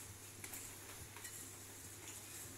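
A spoon works through apple cake batter made with yogurt, giving a soft, steady scraping and stirring under a low background hiss, faint and continuous, with no voices.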